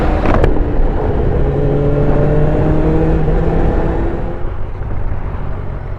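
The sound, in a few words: QJMOTOR 600RC inline-four motorcycle engine revving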